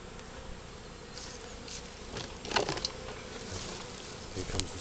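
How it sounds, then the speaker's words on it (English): Honey bees in an open beehive hum and buzz steadily at close range, with a few louder buzzes as individual bees pass near, and no voices. "there's quite a lot of bees in here."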